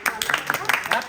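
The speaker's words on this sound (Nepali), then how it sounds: "अब ताली बजाऊ" A small group clapping at a surprise birthday gathering, quick uneven claps close by, mixed with voices and chatter throughout the short burst.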